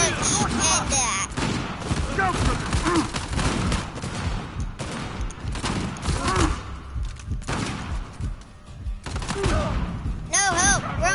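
AK rifle fire in Uncharted 4 comes in repeated rapid bursts amid game combat noise, loud and close, with a voice talking over parts of it.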